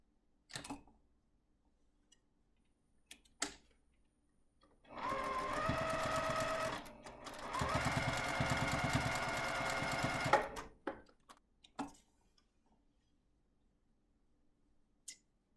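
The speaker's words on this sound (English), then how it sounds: "Open up and sew." Sewing machine stitching binding ties onto a cloth face mask, running in two steady bursts of several seconds each, with quiet handling clicks and taps before and after.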